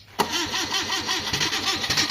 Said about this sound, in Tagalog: umandar na. Mandar na yung makina natin